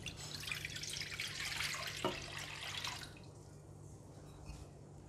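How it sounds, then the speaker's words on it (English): Water pours from a container into a cooking pan for a stir-fried dish, a steady splashing stream that runs close and fairly loud for about three seconds, then cuts off and leaves a quieter trickle and drips. "Pour the water into the pan."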